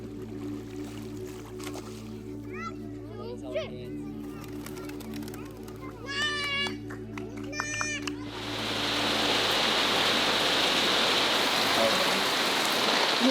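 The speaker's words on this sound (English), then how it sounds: "the rain is really bad." Rain on a boat in the remote Philippines, a dense hiss that rises suddenly partway through and then holds loud and steady, with voices talking before it.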